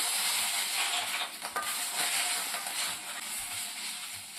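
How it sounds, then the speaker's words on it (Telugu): Fresh ajwain (vamu) leaves with a pinch of turmeric fry in an open pan, giving a steady, close, bright sizzle and hiss with slight shifts as they are stirred. "ఇప్పుడు దీన్నంతా ఫ్రై చేసుకోవాలి. ఈ ఆకు తొందరగా ఫ్రై అవుతుందండి"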